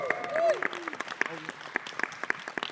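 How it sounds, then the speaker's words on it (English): Applause at the global press conference for Star Wars: The Rise of Skywalker, dense clapping from the audience filling the room, with a voice speaking over the start of it. "Can we give him a round of applause?"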